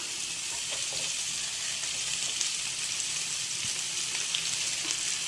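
Sliced onions sizzle in hot oil in a pan while cooking a coconut and mango prawn roast, a steady bright crackling hiss, close and even, with no talking.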